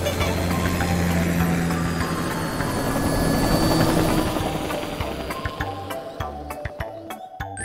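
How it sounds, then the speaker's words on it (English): A cartoon aircraft taking off with the loud, steady thrum of helicopter-like rotors and engine, which fades into lighter clicks and clatter, close and prominent, with no talk. "I promise I'll be flying as carefully as possible to make sure Shimajiro is safe now"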